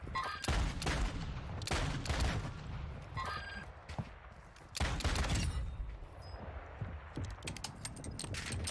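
Dense gunfire in the Call of Duty Warzone video game, with long sustained automatic bursts broken by short pauses and a few single cracks, loud and close with no talk.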